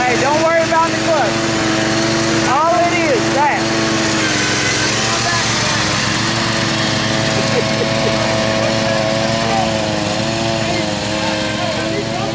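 A riding lawn mower engine runs steadily and close by for the whole stretch, its drone wavering with throttle changes, while people talk over it in a rough backyard wheelie session.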